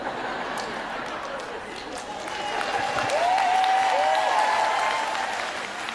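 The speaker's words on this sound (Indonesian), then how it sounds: "Para istri tepuk tangan maksudnya apa?" Wives in the audience at a family talk applaud, a crowd of clapping that swells in the middle with chatter and a voice running through it.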